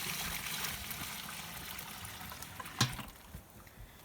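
Water trickles and pours steadily into pig feed on a homestead, a soft continuous splashing with a brief louder clunk near the end.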